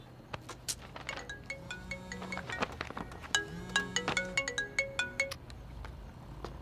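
A mobile phone rings with an incoming call, a bright melodic ringtone of quick repeated notes playing alone at moderate volume with a faint room hum beneath.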